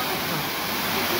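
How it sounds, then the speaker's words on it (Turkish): A waterfall in Erzincan, Turkey, rushes in a steady, dense broadband roar that fills the whole moment without a break, close and continuous, with no other distinct sounds rising above the flowing water. "Bugün de Erzincan şelalesindeyiz."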